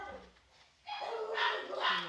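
Indoors, a dog barks and yelps in short bursts at moderate distance, a little muffled, with a brief quiet gap between outbursts.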